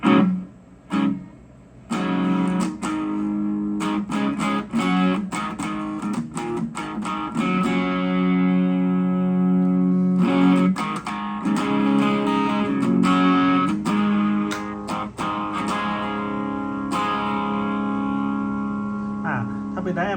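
Electric guitar run through a Korg AX3000G multi-effects unit on a distorted amp setting, playing a series of loud, sustained chords and picked notes with brief pauses between phrases.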